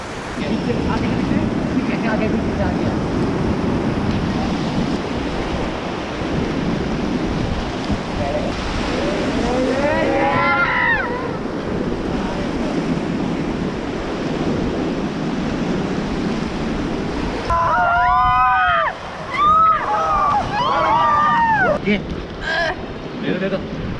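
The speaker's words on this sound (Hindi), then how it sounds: "और ये है व्यास रिवर कुल्लू में, और इसमें हम करने वाले हैं राफ्टिंग।" Water of the Beas river in Kullu rushes and splashes around a raft during river rafting, a broad noisy wash with wind buffeting, while people shout and talk over it in bursts.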